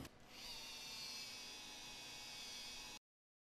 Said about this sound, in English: we can go in with a hard mop on the polisher and polish the gloss back in immediately